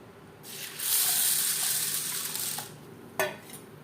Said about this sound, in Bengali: ডাল বেশ পরিষ্কার করে ধুয়ে নেওয়ার পরে দিয়ে দেবো জল